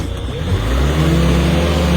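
A stuck car's engine roars and revs loudly and close up as it is pulled out with a rope, the sound building steadily.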